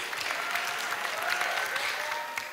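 A stand-up comedy crowd claps steadily. The applause is moderately loud and even and fades a little at the close.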